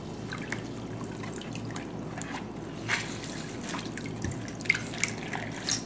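Water drips and trickles from soaked goalkeeper gloves squeezed out during washing, a quiet steady patter of drops with a few louder splashes, no talk.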